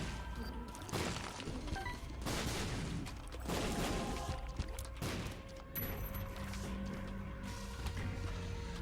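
Bombs go off one after another in The Binding of Isaac: Afterbirth, a string of punchy blasts and shattering crashes over game music, with brief talk mixed in.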